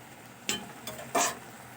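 Radish greens cooking in a pan give a few short stirring scrapes and sizzles, three brief bursts over a faint steady simmer, close and alone.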